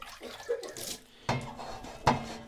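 A sponge rinsed under a running tap while a Berkey water filter is cleaned, quiet splashing water with a couple of sharper knocks against the sink or container, fairly close.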